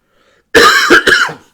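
A single harsh cough, close and loud, breaking into two or three rough bursts after a moment of silence.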